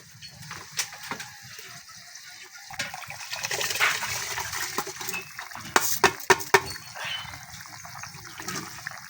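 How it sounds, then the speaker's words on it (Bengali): Water sloshes and swirls in a pot as rice is washed by hand, with soft splashing and several sharper clinks and knocks near the end. "চালটা ধুয়ে দেওয়া হয়ে গিয়েছে।"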